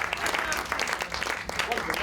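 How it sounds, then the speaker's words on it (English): Audience applause at a comedy magic show fills the short stretch, dense steady clapping with a bit of crowd noise and some speech mixed in. "Give Nigel a huge round of applause"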